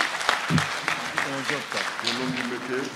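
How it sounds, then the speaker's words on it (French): Applause from a graduation ceremony audience for Ibrahim Djedjou, a steady patter of clapping with voices talking over it. "M. Ibrahim Djedjou, vous l'applaudissez"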